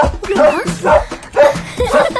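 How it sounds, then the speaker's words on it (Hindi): A dog barks close by in four loud rhythmic bow-wow barks, roughly half a second apart, with a whiny, yipping edge to each one. "भौंकने वाले कुत्ते नहीं काटते।"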